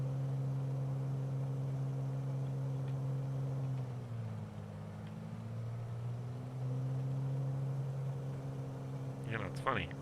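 Propeller engine of a Bonanza aircraft in Microsoft Flight Simulator 2020, a steady droning hum that dips briefly in pitch and then recovers, with someone speaking faintly near the end.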